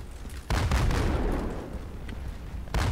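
Artillery fire in the Roblox Conquest battle game, with heavy booming cannon blasts rolling into a dense fusillade, a loud burst at the start and another at the end.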